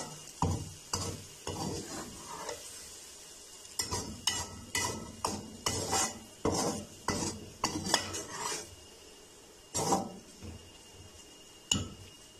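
Sawaiyan vermicelli being stirred with desi ghee in a pot on a village stove, a series of sharp metal spoon scrapes and clinks against the pot over a faint sizzle, coming in bursts with short pauses.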